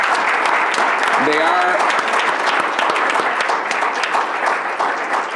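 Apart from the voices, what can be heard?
audience applause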